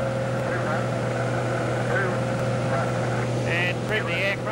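Steady piston aircraft engine drone of a Cessna 185 cruising at reduced power in flight, a constant loud harmonic hum with a few brief chirps late on, and a voice talking over it.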